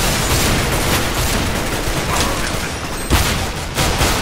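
A steady, dense rattle of gunfire fills a bank demolition match in a video game, with a couple of sharper shots standing out near the end.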